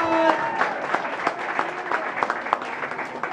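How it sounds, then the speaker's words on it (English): A birthday party crowd claps for the birthday girl, a council member. The applause is lively and fairly close, with sharp individual claps standing out and a few voices mixed in early on. "let's hear it for the birthday girl. Give her a big round of applause"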